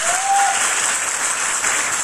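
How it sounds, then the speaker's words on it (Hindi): Loud, dense applause from an audience at a business motivational talk, steady clapping throughout the short stretch. "तालियां होनी चाहिए"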